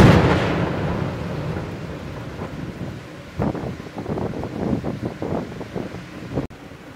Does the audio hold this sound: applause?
no